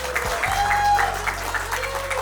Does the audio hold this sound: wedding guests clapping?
yes